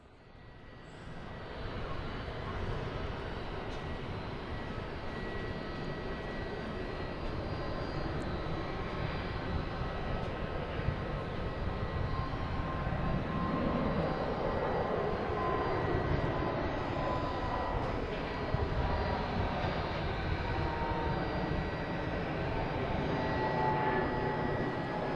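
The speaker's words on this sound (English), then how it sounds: "now we got a Delta coming in from Philly" A Delta airliner arriving at Boston Logan International Airport from Philadelphia, its engines a steady, broad roar that swells slightly and holds for about 25 seconds with no talking.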